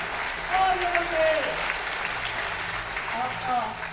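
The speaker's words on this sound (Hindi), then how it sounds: "बजाओ इन गुरुजनों के लिए तालियां, बजाओ तालियां।" Students at an intermediate college in Gangoh clap for their teachers in a school gathering; a broad wash of applause swells and fades, with faint whistles and some voices mixed in.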